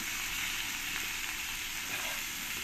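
Potatoes fry in hot oil with salt and turmeric, giving off a steady, close sizzle that holds even throughout with no voices.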